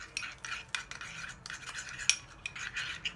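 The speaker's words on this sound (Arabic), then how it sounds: "ورح نخلط المكونات مع بعض منيح" A spoon stirs a small bowl of yogurt and olive oil for a homemade face mask, making soft, steady scraping and clinking strokes against the dish, close and quiet, with no talking.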